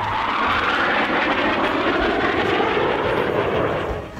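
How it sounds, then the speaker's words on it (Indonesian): A supersonic fighter jet powered by twin General Electric afterburning turbojet engines roars in a steady, broad, loud rumble that holds for several seconds before easing slightly at the end. "pesawat ini dilengkapi dengan mesin ganda turbojet afterburning General Electric berkekuatan total 32 hingga 44 kN"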